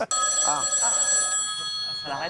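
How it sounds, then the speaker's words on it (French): A telephone bell rings loudly and insistently through a French talk-show studio, its bright repeating tone sustained for a couple of seconds while people talk over it. "Ce téléphone sonne très fort quand même."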